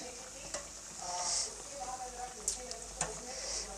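Rice garige fry in hot oil with a soft, steady sizzle, broken by a few sharp clicks and scrapes of a utensil stirring and turning them in the pan.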